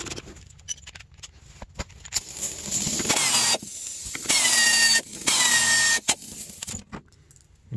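Lock nuts on a 2002 Arctic Cat ZR 600 EFI snowmobile's bearing flange being removed with a power tool, several loud whirring bursts with clicks and clanks of handling between them.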